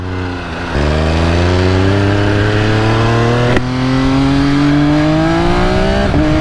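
A 2020 MV Agusta F3 800 RC motorcycle engine, cold from a fresh start, revs up loud and close, its steady harmonic drone climbing in pitch with smooth throttle blips and a sharp jump midway.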